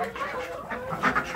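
Roosters in a Polish farmyard, one black and one white, crowing and clucking in short overlapping calls over about a second and a half, fairly close and moderately loud.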